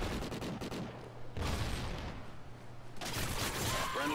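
Gunfire in the shooter game Call of Duty: Ghosts plays as repeated bursts of rapid automatic shots with sharp cracks and echoing booms, broken by brief lulls and mixed with faint game effects.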